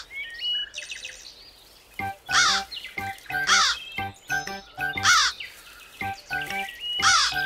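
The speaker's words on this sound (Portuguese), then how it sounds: "as gralhas costumam avisar os outros animais quando tem uma jiboia por perto" Harsh, repeated alarm calls from jays warning of a nearby boa in a cartoon, several loud raucous bursts spaced irregularly and heard alone and close.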